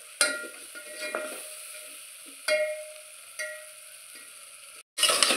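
A spoon scrapes and clinks against a pot while masale bhat rice is stirred with biryani masala, turmeric, onion, tomato, cauliflower and eggplant, giving a few close, sharp metallic knocks over a faint sizzle.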